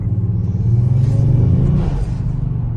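A tuned Kia Stinger with turbocharged engine and worn rear tires revs hard up close, a loud, steady low rumble swelling and easing over about three seconds.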